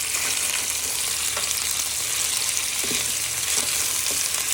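Bacon and sausages fry in a pan, giving a steady, close crackling sizzle with faint scraping as the pieces are stirred around.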